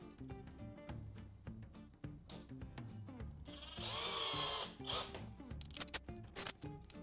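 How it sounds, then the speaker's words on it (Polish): A cordless screwdriver drives a screw into a desk during assembly: a short, loud whirring burst rises midway through a run of small clicks and knocks, with a few more bursts near the end. "Biorę śrubę, wkrętarkę i wkręcam."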